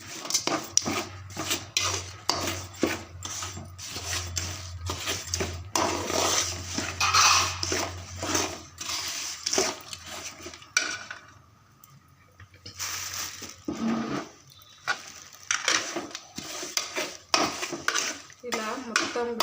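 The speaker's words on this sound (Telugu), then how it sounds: "ఇలా మొత్తం బెల్లం కరిగిపోయేంత వరకు కలుపుకోవాలి ఫ్రెండ్స్." Jaggery melts into syrup in a pot on the stove while a spoon stirs it, giving repeated scraping and clinking against the pot in an uneven rhythm, with someone speaking Telugu over parts of it.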